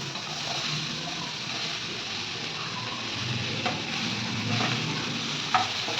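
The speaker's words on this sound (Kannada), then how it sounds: "ಈರುಳ್ಳಿ ಫ್ರೈ ಆಗ್ತಿದೆ." Onions and unripe tomatoes frying together in a pan for tomato chutney, a steady close sizzling hiss with a couple of faint spatula taps toward the end.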